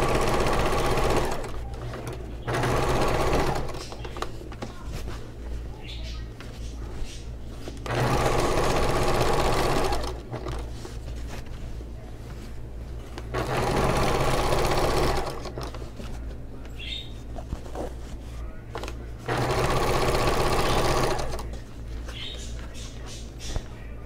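A sewing machine top stitches a seam on a Moroccan-style storage ottoman, running in several sustained bursts of steady, close stitching with pauses between, a voice speaking quietly in the gaps.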